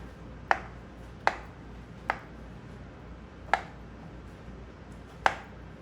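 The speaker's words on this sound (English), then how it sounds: "Now we will cut the gattas into small pieces." A knife cuts cooked gattas, the gram-flour dumplings of a shahi gatte ki sabzi, into small pieces, giving five sharp, isolated taps against a board at irregular intervals over a quiet room background.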